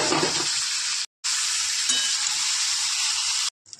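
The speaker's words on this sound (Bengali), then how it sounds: "পেঁয়াজটা হয়ে গেলো ভাজা এবার মাংসগুলো ঢেলে দেবো এর মধ্যে" Chicken pieces tipped into hot oil with fried onions and bay leaf set up a loud, steady sizzle that fills the clip, broken by two brief cuts, with faint stirring scrapes and no talking.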